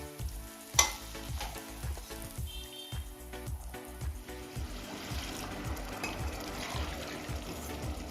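Steady sizzling and crackling of eggs frying in a pan, with occasional clinks and stirring sounds, no voices.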